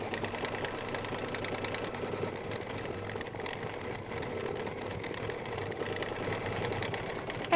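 An embroidery machine stitching a mug rug design in lavender thread runs steadily up close, a continuous mechanical whir with a fast, even needle rhythm and no pauses.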